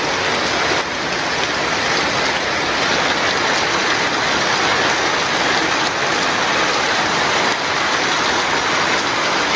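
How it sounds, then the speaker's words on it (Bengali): Heavy rain pours down outside in a continuous, uniform hiss of drops, loud and unbroken throughout with no voices. "আমার সামনে মনে করেন যে বৃষ্টি পড়তেছে"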